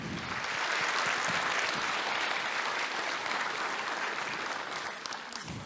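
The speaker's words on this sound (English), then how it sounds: "Give an applause." A crowd at a furry convention opening ceremony applauds continuously, a dense, steady wash of clapping that holds for several seconds before easing slightly at the end.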